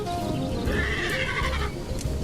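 A horse neighs in the video game Hytale, a single drawn-out whinny that rises and falls, heard close and clear over a steady background with no talking.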